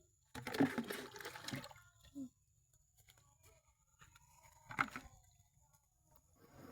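Water splashes from a mug onto plants in two short bursts, a long pour early and a brief one later, with quiet pauses and faint background noise between.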